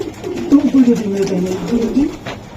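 Racing pigeons cooing softly in a low, rolling burble while being handled up close, with a voice talking over them.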